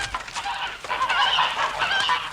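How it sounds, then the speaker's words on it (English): Domestic geese huddled in the corner of a yard give loud, repeated nasal honks with harsh hissing cries layered in, a close, continuous flock chorus with no talking. "I looked at the geese, which was hissing and huddling in the corner of the yard"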